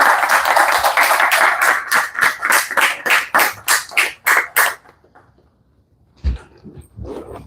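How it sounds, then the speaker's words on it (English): Live-streamed temple audience at ISKCON Columbus clapping to welcome a speaker, a rhythmic burst of close, sharp claps in regular beats that stops abruptly, followed by near silence and a single soft bump. "let's give a big round of applause to Patri Prabhu and welcome him."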